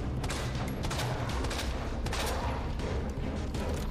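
Dense, continuous gunfire from a Resident Evil 2 (2019) firefight, rapid overlapping shots and booms packed into a loud, unbroken barrage with no pauses.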